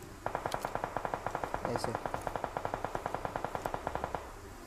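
Rapid automatic gunfire from the PUBG Mobile video game: a long even burst of about thirty sharp shots at a fast steady rhythm. It runs clear and prominent for most of the clip, with a brief word spoken near the start.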